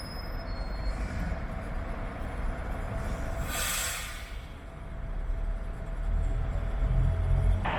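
Train at Doncaster railway station rumbling steadily on the platform, with a brief high hiss or squeal partway through and a heavier low rumble building toward the end, close and continuous with no talk.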